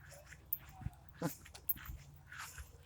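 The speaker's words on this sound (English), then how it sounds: "The dog wants to come over here." A dog whimpers and yips faintly outdoors amid rustling and distant voices, the sounds short and scattered.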